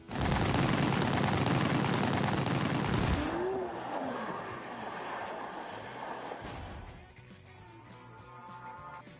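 Pistol gunfire bursts out in The Grand Tour video game as a loud, dense volley of shots for about three seconds. It then fades into a lingering, rumbling echo with engine-like noise underneath.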